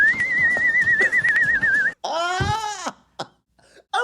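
A wavering, sustained whistle from the film Judgment Night rings loud and close for about two seconds, then breaks off into a drawn-out, bleat-like vocal sound with a few short trailing bursts.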